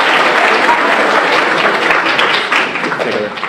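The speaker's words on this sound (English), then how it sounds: "give a round of applause for everyone to give their time to speak this evening" Audience applause rings out at an evening debate on abortion hosted by a law society, dense steady clapping from a crowded room that eases slightly toward the end.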